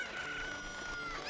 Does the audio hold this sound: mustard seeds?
no